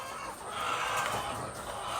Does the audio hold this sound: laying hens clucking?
yes